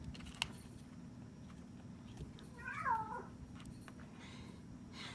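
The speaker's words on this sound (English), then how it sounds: "Pardon the meowing cat." A single pet cat lets out one drawn-out meow indoors, fairly faint over a steady low background hum, with a sharp click shortly before and no talk.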